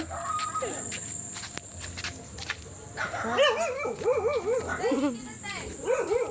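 A dog barks and whines in a rising, repeated series of yelps over the second half, with footsteps and background noise throughout.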